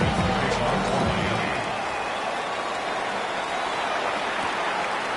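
Steady rain hiss fills a football video game match against the Dolphins, a broad wash of falling rain carrying on loud and even throughout, with faint crowd noise and commentary murmur beneath it.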